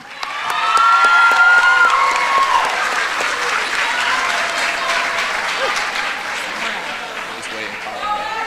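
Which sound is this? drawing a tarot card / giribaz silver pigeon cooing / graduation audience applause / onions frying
graduation audience applause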